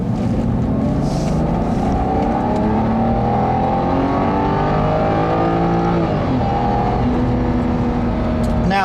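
A 2011 BMW 328i xDrive's straight-six engine pulls hard under acceleration, a loud, steady drone whose pitch climbs across most of the run, dips with a gear change near the six-second mark, then rises again, heard from inside the car with no talk.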